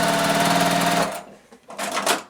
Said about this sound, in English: I'm going to sew on the drawn line